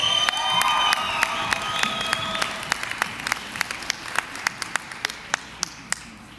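A graduation audience at a physical therapy commencement breaks into loud applause and cheering, which fades into scattered, individual hand claps that grow sparser toward the end.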